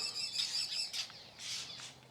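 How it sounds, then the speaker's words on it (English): Several birds chirp and tweet near a new bridge over a river at El Portal, a few quick high calls in short bursts over a soft ambient background, moderately close. "the birds seem to love the new bridge"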